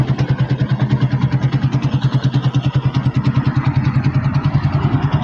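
A Sniper 150 motorcycle with an aftermarket TPS sensor idles up close, its single-cylinder engine thumping in a fast, even pulse with a mechanical clatter and no talking.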